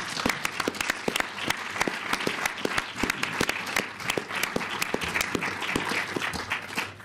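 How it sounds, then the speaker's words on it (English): A panel discussion audience at an Alan Whicker centenary event gives sustained applause, dense and even, with a few louder claps standing out. "I think that does get a round of applause"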